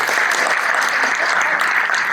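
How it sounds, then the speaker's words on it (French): Warm, dense applause from an audience honouring their presidents at a tribute gathering, continuous close clapping with no pause over a couple of seconds. "applaudissons-les chaleureusement"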